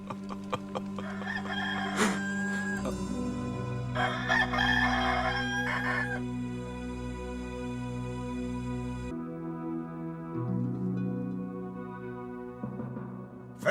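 A rooster crows loudly and close by, a single long cock-a-doodle-doo over a layered dramatic musical score from a Passion of the Christ scene, with no talk.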